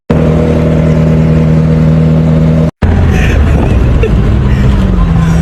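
A McLaren Senna sports car engine revs loud and close, a steady powerful drone that cuts out briefly before a rougher, fluctuating roar returns with voices underneath.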